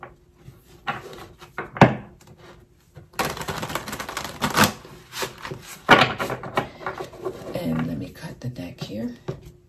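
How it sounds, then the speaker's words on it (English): Rapid papery riffling and soft slaps of tarot cards being shuffled, in several quick bursts, with some talking mixed in. "I'm going to do one more shuffle"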